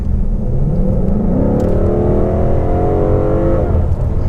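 A 2017 Ford Mustang GT California Special accelerates hard, its engine note rising steadily in pitch through the gears, loud and close with no talking over it.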